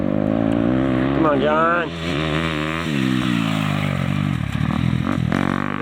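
Motocross bike coasting through a bumpy rut, engine tones rising and falling with sharp rev swells and chain chatter, loud and close, with a voice calling out over it.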